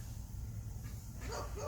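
A dog barks in a backyard with ducks and a rooster nearby, a short yip-like bark at the end over a steady outdoor background, fairly distant.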